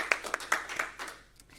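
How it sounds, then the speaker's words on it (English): A few people at the New Hampshire Press Association's 2020 journalism awards give award winners a sparse, light round of scattered claps that quickly fades out. "Let's give them a well-deserved round of applause"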